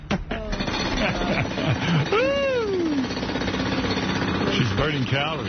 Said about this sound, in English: It sounds like a jackhammer